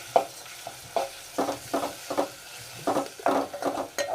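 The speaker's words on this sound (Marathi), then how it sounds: "आता त्यामध्ये आपण ही चरबी भाजून" Mutton fat fries with onion and garlic in a pan, a quiet sizzle broken by repeated scraping knocks of a spatula stirring against the pan, close and irregular, with no voices.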